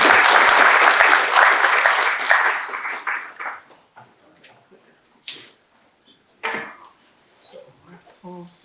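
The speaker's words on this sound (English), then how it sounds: "let's give him a round of applause." An audience applauding to welcome a speaker at a talk on Islam and AI ethics, a dense burst of clapping that thins to scattered claps over several seconds, with brief voices and small knocks afterward.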